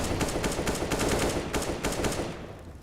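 Rapid bursts of rifle fire from a Counter-Strike match at the IEM Rio 2023 tournament, a dense run of sharp repeated shots that keeps going for most of the stretch before thinning out near the end.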